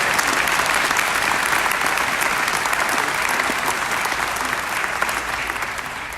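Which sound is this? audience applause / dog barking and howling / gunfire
audience applause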